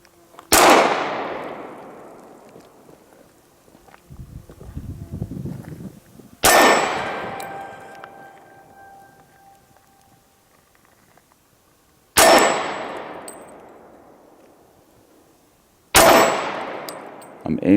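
Glock 22 Gen 4 pistol fitted with a BT guide rod fires four loud single gunshots several seconds apart, each a sharp crack with a long ringing decay into quiet.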